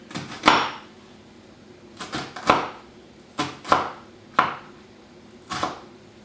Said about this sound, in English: next we will dice the onion